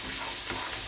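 A spice paste cooks in oil over low heat for Indian pre-cooked chicken, giving a brief, continuous hissing sizzle that is close and even in level.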